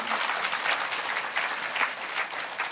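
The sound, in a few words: audience clapping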